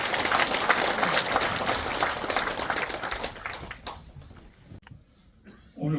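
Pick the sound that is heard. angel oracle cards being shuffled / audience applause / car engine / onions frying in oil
audience applause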